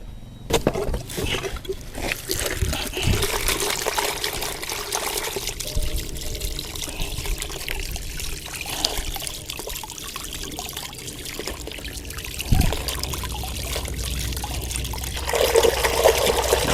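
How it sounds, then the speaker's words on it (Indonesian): Water pours and trickles steadily into a homemade chicken feed mixture, a close, continuous splashing dribble that swells briefly toward the end. "kita masukkan aja air ke dalam ini sedikit saja ya"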